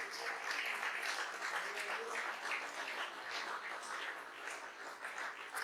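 A church congregation applauds steadily for several seconds, a dense wash of clapping that stays fairly even in loudness throughout.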